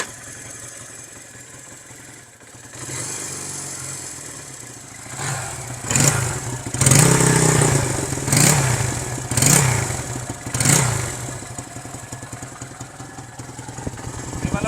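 Honda CD175 motorcycle engine idling and then revved in several sharp bursts, loud and close, with a clattery mechanical note between throttle blips.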